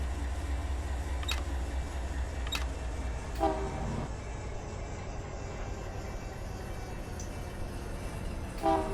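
In Run 8 Train Simulator, BNSF freight trains between Fresno and Bakersfield give a constant low rumble, broken by several sharp clicks and two short horn-like tones, with no voices present.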